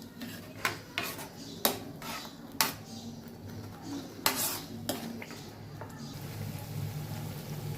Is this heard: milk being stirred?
yes